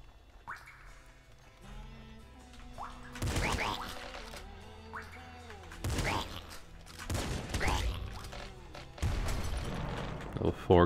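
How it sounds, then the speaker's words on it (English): Triple machine gun fire in the video game Nuclear Throne sounds as bursts of rapid synthetic shots between game music and effects, fairly loud in spots. "Triple machine gun again."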